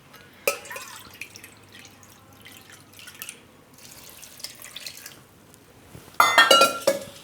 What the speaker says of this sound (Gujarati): એટલે હજી એક વાટકી પાણી નાખી દે હું